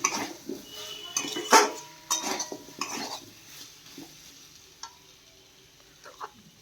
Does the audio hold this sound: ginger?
yes